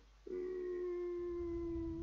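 A dog howls in the pixel-art indie horror labyrinth game EXIT 2, a single sustained, loud, steady wail that starts abruptly and holds for nearly two seconds over a low rumbling game background, with no voices.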